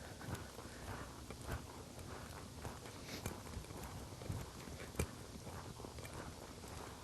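Horse hooves at a lope give soft, rhythmic hoofbeats, fairly faint and partly buried in steady broadband noise, with a few sharper thuds standing out.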